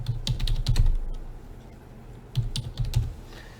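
Keys clatter on a computer keyboard in two short bursts of quick taps, close and fairly soft, with a quiet pause between them and no talking.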